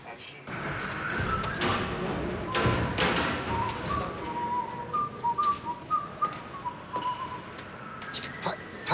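A person whistles a short, wandering tune in a domestic setting, thin and moderately close, while people talk and thuds and knocks sound around them.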